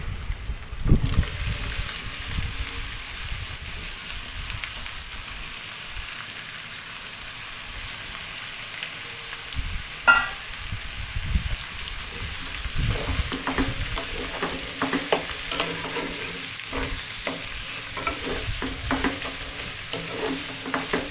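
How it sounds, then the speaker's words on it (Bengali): Boiled jackfruit stirred into hot oil with fried chili, a loud constant sizzle with scraping spatula strokes against the pan, close and continuous without talk. "কাঁঠালটাকে দিয়ে ভালো করে নেড়েচেড়ে মিশিয়ে নেব তেলের সঙ্গে"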